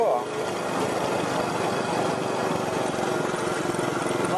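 A steady motorcycle engine drones while riding on a road in Phayao, Thailand, with wind rush mixed into the continuous, unbroken noise and no talking over it.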